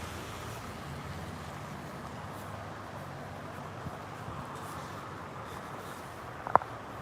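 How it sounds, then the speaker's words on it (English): A car engine runs close behind someone on a street, a steady low rumble of traffic noise with no talk, ending in one brief sharp click. "I hear engine sound behind me right now"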